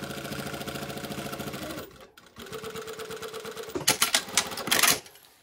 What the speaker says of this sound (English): so now we're just going to sew those together